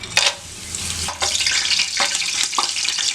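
Whole spices, rose petals and bay leaves fry in hot fat for a large mutton biryani, producing a loud, close, hissing sizzle with bursts of crackle and a few scrapes, no talking.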